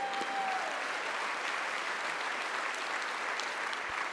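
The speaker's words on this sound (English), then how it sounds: "Little round of applause for the Chinese national ping pong team." Steady applause from a seated audience honoring China's national table tennis team, a dense even clatter of clapping hands that holds at a constant level throughout.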